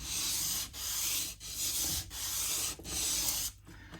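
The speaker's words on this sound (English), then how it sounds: "sanding, like so" Sanding on the nut of an Eastwood Tenor 2P baritone guitar during setup: close, steady rasping strokes in a regular back-and-forth rhythm, about six passes with brief pauses between, no talking.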